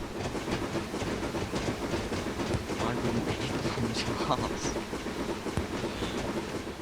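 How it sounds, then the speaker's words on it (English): A steam locomotive in the Train Simulator video game runs with a steady rumbling, clattering roll under a voice speaking. "I think I'm driving a steam train, right?"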